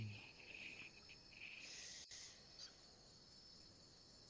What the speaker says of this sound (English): Oh, I hear the crickets.